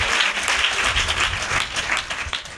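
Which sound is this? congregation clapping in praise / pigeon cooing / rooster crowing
congregation clapping in praise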